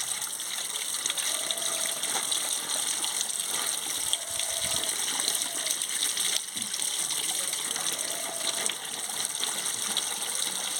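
Cut potatoes rinsed under running water, a steady gushing flow with splashes and brief knocks as the pieces are handled, close and without talk.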